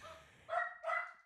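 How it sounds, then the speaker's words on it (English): A small dog barks twice at close range, two sharp, loud yaps in quick succession after a brief quiet lead-in. "who's the barking guy?"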